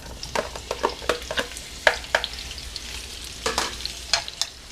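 About three sliced onions fry in vegetable oil in a heated pan, making a close, crackling sizzle broken by a dozen or so sharp scrapes and clatters as they are stirred.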